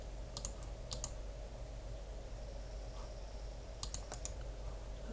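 Computer mouse buttons clicking in small quick clusters, faint and close, over a constant hiss of background noise.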